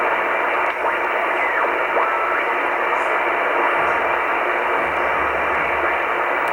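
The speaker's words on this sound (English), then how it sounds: "Buzzing of some television set." A shortwave receiver on the 10-meter amateur band carries a continuous hiss with a faint buzzing interference from a television set, plus soft warbling sweeps, all steady and unbroken.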